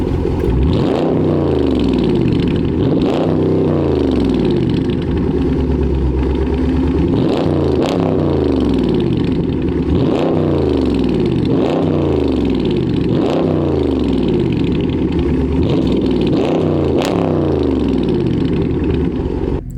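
Car with a muffler delete revving hard and repeatedly, loud raspy exhaust rising and dropping in a steady rhythm of roughly a dozen blips, up close with no talk.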